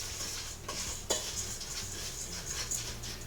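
Oats, flour, cinnamon and salt being stirred into a peach crumble bar batter in a bowl, a soft continuous scraping and swishing with a couple of light clinks of the utensil against the bowl.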